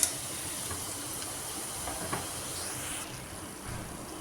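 Chapati pieces frying in hot oil give off a steady, soft sizzling hiss that runs unbroken and fairly quiet throughout.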